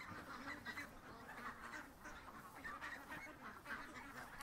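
A flock of ducks quacks and chatters continuously at a duck-feed unloading, a faint, busy mass of overlapping calls with no talk.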